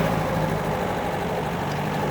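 A 1951 MG TD engine idles and runs low and steady after a downshift into second gear, a continuous close rumble with a faint harmonic hum and no voices.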